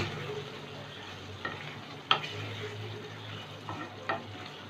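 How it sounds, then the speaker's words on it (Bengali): Potol fries with ghee and garam masala in a low, steady sizzle as a spoon stirs through it, giving a few soft scraping knocks at irregular intervals, close and with no speech. "এক চামচ ঘি দেব আর একটু গরম মশলা দেব এবার একটু নেড়ে চেড়ে গ্যাসটা বন্ধ করে দেব"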